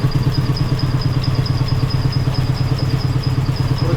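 A motorcycle engine converted to run on LPG idles steadily up close, a loud rhythmic chugging with a faint high whine, with no talk.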